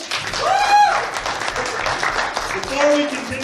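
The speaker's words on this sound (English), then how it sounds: "give all the performers a round of applause" A live audience applauds performers at a convention show, with a dense patter of clapping and some cheering under a speaker's voice.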